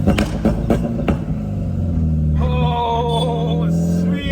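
A modified Honda City engine rumbles loud and close, with a few sharp blips early on before settling into a sustained, rising revving drone, and voices can be heard briefly over it.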